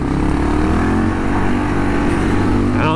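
A Kawasaki KLR 650 dual-sport motorcycle engine revs hard and steadily on a rough back road, buzzing loud and close throughout, held near its rev limiter with no talking.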